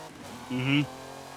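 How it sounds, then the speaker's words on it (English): A race car in a racing video game briefly screams as its engine over-revs in first gear: a short, loud, strained tone lasting under half a second against quiet background rumble. "It doesn't help that I over revved first gear there too."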